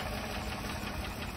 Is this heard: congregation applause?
no